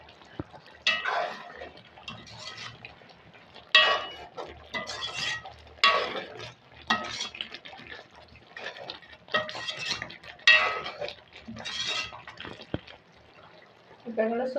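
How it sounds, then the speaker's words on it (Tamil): A spoon stirs potato curry with meat curry powder in a metal pot, giving repeated scraping clinks and soft wet stirring nearby, while a person talks over it. "இப்போ இதை இருக்க கலந்து விடுவோம்"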